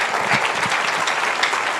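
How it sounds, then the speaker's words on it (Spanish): A church congregation applauds steadily and loudly, a dense wash of many hands clapping together with no pauses, filling the room throughout. "Está dando un aplauso al Rey de Reyes y Señor de Señores"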